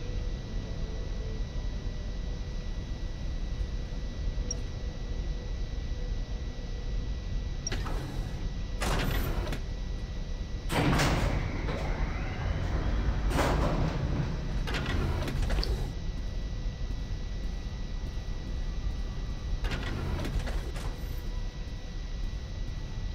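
Elevator ride in the video game Consortium: a steady mechanical hum runs throughout, broken by several loud whooshing, clanking bursts of the car moving and doors shifting, with no talking.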